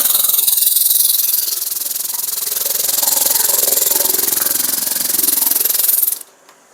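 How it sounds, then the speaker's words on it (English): 80-grit sandpaper rubs rapidly against an old hatchet's new wooden handle, a loud, continuous rasping hiss with a fast back-and-forth rhythm that stops abruptly near the end. "Got some 80 grit sandpaper."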